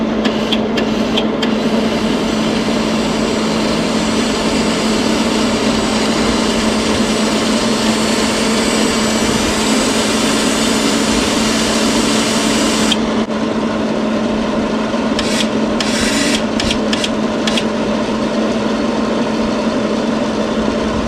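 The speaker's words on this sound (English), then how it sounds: "I'll get it started up, pull the trigger, and see if it draws the wire." A vintage Canox Firefly MIG welder runs loud and steady with a constant motor hum as its wire feeds, with a few brief clicks near the start and end.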